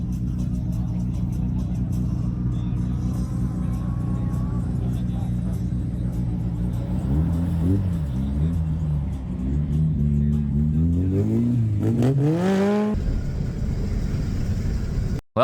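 Ram Rampage pickup with turbo boost launching hard in an eighth-mile drag race, its engine droning steadily and then climbing through rising gear-shift sweeps, loud and close, before cutting off abruptly at the end.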